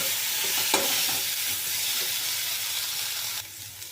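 Spice paste with a spoonful of water sizzling and hissing steadily in a pan over low flame, with a few scraping stir strokes, close and even, and no speech.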